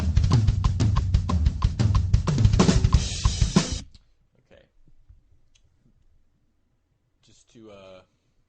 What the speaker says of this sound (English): I'll let you listen to the part that we're going to work with today, with the click